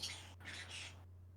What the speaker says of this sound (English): Bird screaming. He's mad. He's upset.